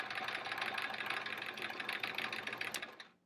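Sewing machine running steadily during free-motion quilting on a quilt-as-you-go block, a close, fast, continuous whir of stitching that winds down and stops at the end.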